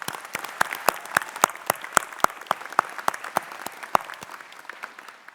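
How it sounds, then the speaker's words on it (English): A small group claps steadily at a university graduation ceremony, with sharp individual hand claps at an even pace that thin out slightly toward the end. "Let's give him another round of applause."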